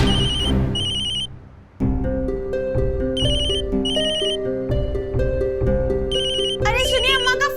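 A loud electronic phone ringtone plays a repeating melodic tune with bright chiming notes, continuing for several seconds without any talking.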